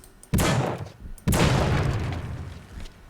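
Two heavy booming explosions in the video game The Suffering, the second about a second after the first, each with a long rumbling decay; loud and close, no talking.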